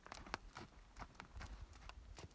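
Horse hooves clip-clop during a riding lesson, a quick, faint, regular series of light hoof strikes on the ground, heard alone.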